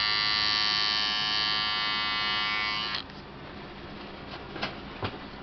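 Andis Slimline Pro Li T-blade hair trimmer running with a loud, steady high-pitched electric buzz for about three seconds, then switching off, followed by a few faint clicks and handling taps.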